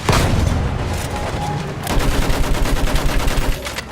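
Sustained rapid gunfire from the World War I shooter Battlefield 1, a loud continuous battle din of rifles and machine guns with booming impacts, growing denser partway through.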